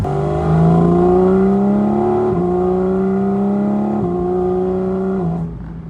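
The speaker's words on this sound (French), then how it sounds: "Ah, le son de l'atmosphérique qui dégage, c'est juste une dinguerie." A Porsche GT4 RS with a naturally aspirated engine revs hard and close, its steady rising howl broken by brief dips as gears change, then fading at the end.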